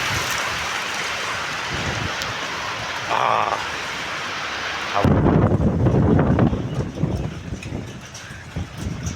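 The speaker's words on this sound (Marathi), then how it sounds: "खाली आवाज येतो जोरात पाऊस पडतो आहे" Heavy stormy rain pours down in a dense, continuous roar, growing louder and harsher partway through, with gusts buffeting the microphone.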